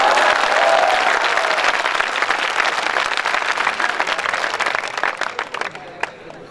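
A crowd claps at a night-time poetry recital held at a school. The dense, loud applause fills the opening seconds, then thins and fades into scattered individual claps.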